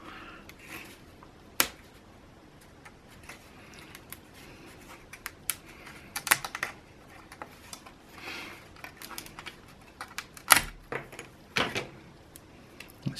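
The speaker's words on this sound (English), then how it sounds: "you can just pop them out with gentle finger pressure" Tabbed model servo mount parts for a model railway being popped out of a sheet by finger pressure, giving faint, scattered sharp clicks and snaps at irregular intervals over a quiet background.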